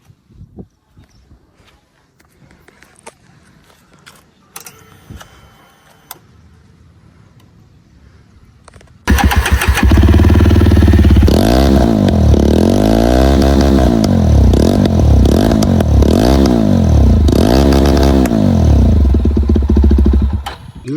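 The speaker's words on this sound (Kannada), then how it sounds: "ಈಗ ಇನ್ನೊಂದು ಬಂದಿದ್ರದ್ದು ಸೌಂಡ್ ನೋಡ್ರಿ ಹೆಂಗದ, ಎಕ್ಸಾಸ್ಟ್ ನೋಡ್ ತೋರಿಸ್ತೀನಿ ನಿಮ್ಗ" A Jawa 42 Bobber motorcycle, 2025 model, sits quiet with faint background noise before its engine starts and runs loud and close, the exhaust revving repeatedly in rising and falling bursts.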